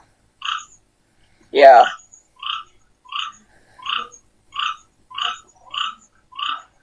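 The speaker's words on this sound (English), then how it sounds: "That sounds of a toad outside." Toad croaking outdoors at night, a rhythmic series of about nine short, evenly spaced calls at moderate distance, with one louder, harsher burst early on and a brief spoken word near the start.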